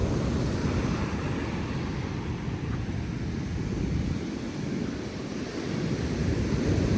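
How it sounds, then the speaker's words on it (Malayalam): Sea waves surge and crash on a beach, a continuous loud wash of surf with wind noise rumbling across the microphone, easing slightly near the end before swelling again; no one speaks. "അവിടെ തിര ഒന്നും അടിച്ചിട്ട് എന്തോ ഒരു ശബ്ദമെന്നറിയോ"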